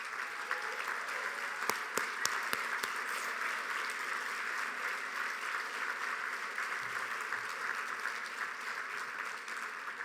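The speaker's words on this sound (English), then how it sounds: "the whole room is gonna have to give them a round of applause" Sustained applause fills a large hall at a business hall of fame gala honouring co-founders, steady and dense throughout with a few sharper claps standing out near the start.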